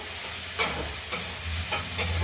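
Two green chilies drop into hot oil for a spicy puti fish curry, giving a close, soft sizzle with brief crackling bursts and stirring, no voices.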